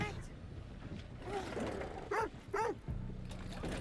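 A dog in the Resident Evil 7 video game whimpers and yelps in a few short rising cries over low game ambience and mechanical noise.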